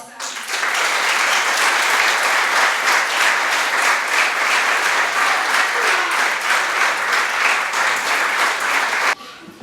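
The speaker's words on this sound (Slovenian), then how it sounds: "Zato še enkrat vsem in vsakemu posebej en velik aplavz." Audience applauding at a volunteer fire brigade's Christmas event, with bright, dense clapping rising quickly, holding steady and loud for about nine seconds, then stopping sharply.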